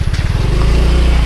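Honda Scout motorcycle on a slippery, rough road, its engine chugging in uneven low pulses before settling into a steady loud drone, close and dominant throughout.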